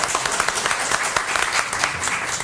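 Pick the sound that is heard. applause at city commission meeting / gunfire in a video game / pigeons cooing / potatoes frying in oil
applause at city commission meeting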